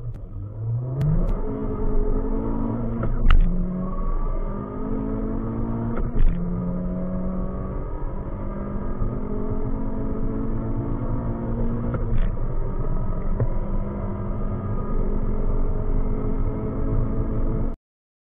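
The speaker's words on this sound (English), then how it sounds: "Honda Civic Type R top speed acceleration test 0 to 200" Honda Civic Type R under hard acceleration in a 0 to 200 km/h top speed run, its engine note climbing steadily through several gear changes with brief dips at the shifts, loud and continuous without talk.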